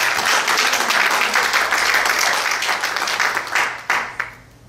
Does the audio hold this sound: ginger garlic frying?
no